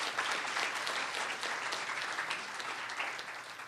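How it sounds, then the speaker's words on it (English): An audience claps steadily at a UNICEF meeting in St. Kitts and Nevis, a continuous wash of applause with slight swells, fading a little toward the end. "Let us give them another round of applause"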